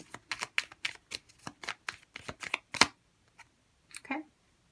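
Oracle cards being shuffled make a close run of quick crisp riffling and snapping slaps in an irregular rhythm, then a few softer taps, with a brief voice near the end.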